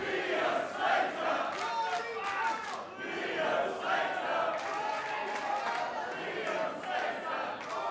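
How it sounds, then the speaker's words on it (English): An indoor crowd at a North Wrestling match chants and cheers in swelling, rhythmic waves that keep going across the whole stretch, with shouted voices mixed into the roar. "And here's the crowd."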